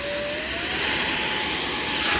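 A hand-launched 3D printed PLA Saab Viggen RC jet with a 50mm electric ducted fan on a 4-cell battery gives a steady, loud high-pitched whine whose tone rises as it speeds away, continuous throughout.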